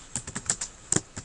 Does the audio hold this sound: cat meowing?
no